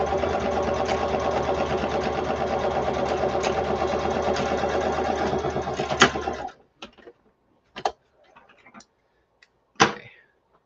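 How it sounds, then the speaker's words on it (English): Sewing machine running a zigzag stitch across folded fabric backing on a scrappy drawstring bag, a steady rapid mechanical whir for about six seconds, then stopping, followed by a few scattered clicks and taps. "I'm just going to fold it over and zigzag across the front of that."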